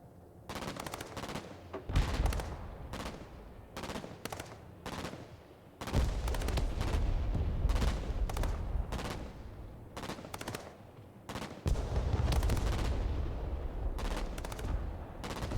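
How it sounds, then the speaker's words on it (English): Bursts of automatic gunfire and heavy shots rake a jeep and a tank in the war video game Broken Arrow, with rapid volleys separated by short pauses and loud sharp reports that come in repeated waves. "They're going to shoot the jeep and the tank to death"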